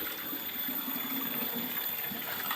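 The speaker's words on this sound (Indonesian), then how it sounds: "Kemudian ini saya buang airnya semuanya teman-teman." Water drains from a catfish tank as a steady, close rushing gush, continuous and fairly loud with no pauses.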